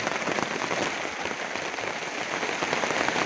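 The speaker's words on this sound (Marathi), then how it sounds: "पाऊस यायला लागला साहेब." Rain begins falling on a farm, a dense, even patter across the whole stretch, steady and fairly close with no voices.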